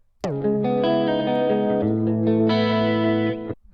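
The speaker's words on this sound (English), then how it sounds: "drive is sort of like a distortion sort of effect" A sustained synth tone through a sampler's drive distortion effect, gritty and distorted, swelling brighter partway through, played alone and loud before cutting off.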